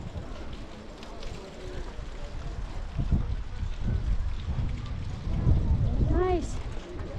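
Strong wind buffets the microphone at a beach in Pléneuf-Val-André, Brittany, a steady broadband rush that swells louder in gusts, with voices and distant beach activity underneath.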